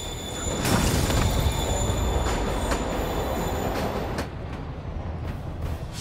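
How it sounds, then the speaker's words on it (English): A subway train pulls away in the video game Spider-Man Remastered, loud rumbling wheels and high metallic squealing that gradually fade as it recedes, with no voices. "Train's moving."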